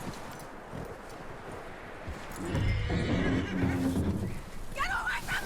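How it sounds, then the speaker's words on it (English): A horse in the video game Red Dead Redemption 2 whinnies and shifts on clip-clopping hooves over a steady outdoor ambience, with the shrill neigh rising clearly near the end. "That looks like a decent horse. You should keep him."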